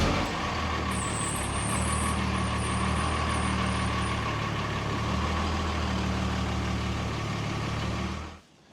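An all-original old truck's engine idles close by in a steady low rumble, with a faint high whine above it for the first few seconds, before the engine cuts off near the end.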